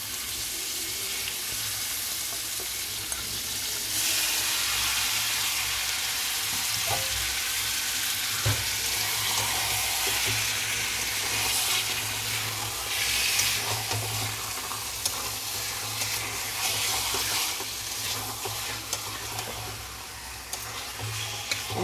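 Chicken marinated in lime and salt sizzles loudly after going into a pan of cooked-down spice paste, a steady frying crackle with occasional stirring scrapes and no talking.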